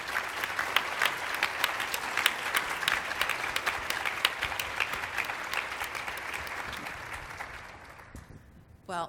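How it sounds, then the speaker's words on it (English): Conference audience applauding a panel, a dense, even patter of many hands clapping that holds steady, then thins and fades out near the end. "can we have another round of applause for our panel?"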